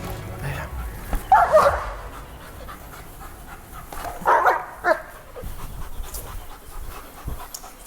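An aggressive Belgian Malinois barks in two short bursts, with panting and whimpering between them, close and fairly loud against a quiet background.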